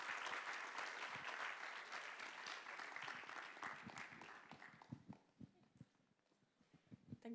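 Crowd applause at a research coordination meeting, strong at first and then thinning out into a few scattered claps and some shuffling as it fades.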